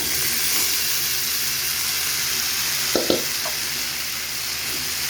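Moringa drumsticks frying in spices in a pan, a loud, steady sizzle and hiss with a couple of brief scraping knocks from stirring near the middle.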